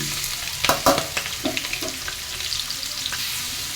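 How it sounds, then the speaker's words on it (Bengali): Chopped onions sizzle in hot oil alongside fried boiled eggs, with a cluster of sharp spatula knocks and scrapes early on, then a softer, even frying hiss. "পেঁয়াজগুলি ভালোভাবে ভেজে নেব"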